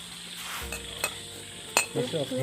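Chopped chili dropped into a hot pan and stir-fried, with steady sizzling, a few sharp clinks of a utensil against the pan and stirring scrapes, close and alone.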